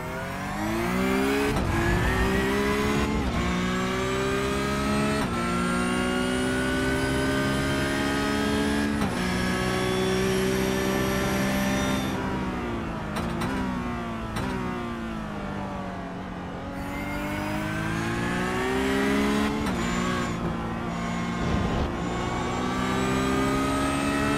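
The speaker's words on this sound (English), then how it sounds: "Listen to the car, listen to the inputs." Onboard a Porsche Cup race car lapping Hockenheim, the engine roars continuously at high revs, rising through each gear and dropping sharply on upshifts and braking, loud and close with no talk.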